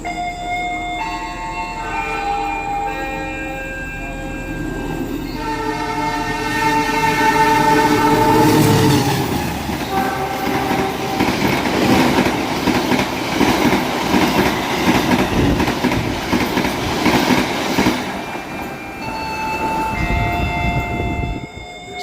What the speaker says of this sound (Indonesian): ini ada 2 kereta dari arah barat dan dari arah timur